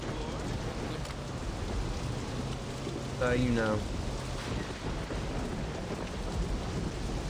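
Rain pours constantly in the video game Saints Row during its final mission, with a low thunder rumble beneath it, while a voice briefly speaks partway through.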